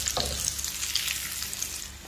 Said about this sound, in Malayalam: അണ്ടിപ്പരിപ്പും ഉണക്കമുന്തിരിങ്ങയും നന്നായിട്ട് വറന്ന് വരട്ടെ